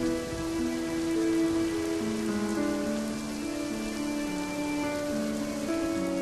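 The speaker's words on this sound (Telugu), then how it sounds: "ఓ రోజు జోరున వర్షం కురవసాగింది." Heavy rain falling in a steady, dense wash of drops on surfaces, continuous and loud with no voices.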